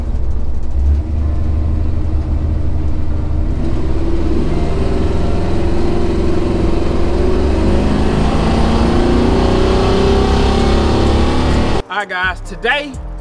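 A car with a built transmission accelerates hard under manual shifting, its engine note climbing steadily and loudly for several seconds before a shift and a brief drop, with a voice partly over it.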